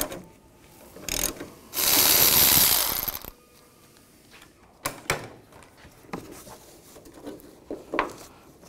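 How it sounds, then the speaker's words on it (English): A ratchet fitted with a 13 mm socket loosens the battery hold-down bolt on a 1999-2006 Chevrolet Silverado 1500, giving a loud burst of ratcheting clicks followed by softer metallic clinks and knocks. "Using a 13 millimeter socket, take out the battery hold down bolt."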